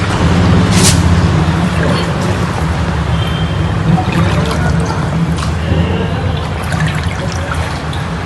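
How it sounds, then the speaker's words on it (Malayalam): Rainwater overflows a full gutter at a school library hall after heavy rain, pouring in a loud, steady, close rush of trickling and splashing that continues throughout. "ഈ ഭാഗത്തെ മഴപ്പാത്തി നിറഞ്ഞതാണ് വെള്ളം ഒലിച്ചിറങ്ങാൻ കാരണം"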